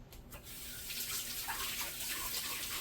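Tap water runs steadily into a sink to rinse off a fermentation bottle, a continuous close splashing hiss that starts after a brief quiet moment.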